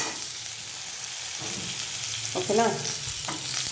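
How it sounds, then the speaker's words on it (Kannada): Sliced onion and tomato frying for a sprouted horse gram curry, a steady sizzle with a spoon stirring and scraping the pan and a brief spoken word in between. "ಇವಾಗ ಇದನ್ನೆಲ್ಲ ನೀಟಾಗಿ ಫ್ರೈ ಮಾಡ್ಕೊಳ್ಳೋಣ."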